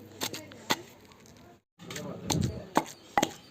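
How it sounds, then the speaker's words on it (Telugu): Green chillies, peanuts and tamarind crushed in a stone mortar: sharp scattered pounding and scraping knocks, several distinct hits, with a short gap of silence in the middle. "నూరుతున్నాను."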